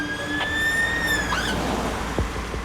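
An ambulance arriving with its siren sounding, a steady rising tone that sweeps upward and then cuts off. It is moderately loud over a constant background rumble.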